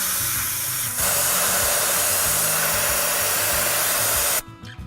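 Air rushes loudly out of a 4x4 tyre through an Ironman tyre deflator, a strong steady hiss that starts abruptly, holds for several seconds, then cuts off sharply.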